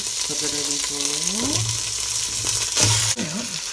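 Raw chicken dumped into a hot pan of Panang curry paste in a home kitchen, giving a loud, steady sizzle with a voice talking over it and a brief clatter near the end.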